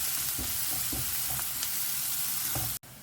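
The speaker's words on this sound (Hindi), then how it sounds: "और हमें प्याज को ना एक बढ़िया सा गोल्डन कलर आने तक हमें इसे फ्राई करना है." Sliced onions sizzle steadily in hot oil while frying for matar paneer, a dense close hiss broken by soft stirring knocks of a spoon against the pan.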